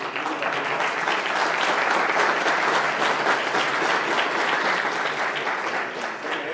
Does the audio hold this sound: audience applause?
yes